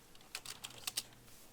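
Keys tap on a computer keyboard in a short, quiet burst of a few quick clicks, close by and with no talking.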